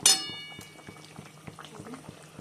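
A pot of fish curry with eggplant bubbles and pops in irregular soft bursts, opening with a bright metallic clink, with no speech.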